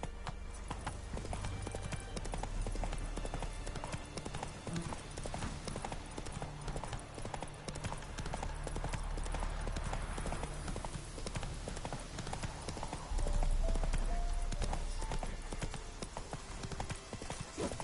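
Roach the horse runs in The Witcher 3, hooves clip-clopping in a fast, steady rhythm, close and continuous amid low ambient game noise, with a brief heavier rumble near the end.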